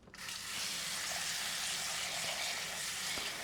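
Water pouring from a tap into a saucepan of potatoes, a steady hissing gush that starts abruptly and runs continuously up close, with no talking.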